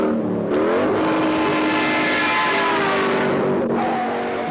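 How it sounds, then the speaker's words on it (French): A Shelby GT350 Mustang roars through a car chase, its loud engine note rising and shifting in pitch as it accelerates, close and dominant with brief tire noise and no voices. "Cette poursuite entre un McQueen qui est dans sa Mustang"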